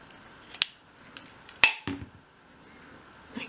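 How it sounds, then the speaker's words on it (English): Small snips cutting a mitre into a thin dolls house trim piece, a few sharp separate clicks and cuts close up in a quiet room. "Then you need to cut the mitre in that piece."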